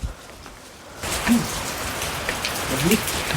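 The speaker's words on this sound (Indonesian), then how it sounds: "Suasana gerimis" Light drizzle falling outdoors on a misty hillside path, a quiet hush at first and then a steady patter of raindrops on surfaces, with faint movement sounds close by.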